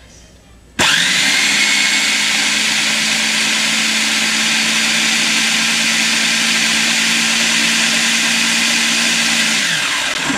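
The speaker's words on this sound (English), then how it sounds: "So let's get this all blended." A kitchen blender roars on suddenly and grinds homemade Clif bar ingredients in one loud, continuous whir lasting about ten seconds before cutting off.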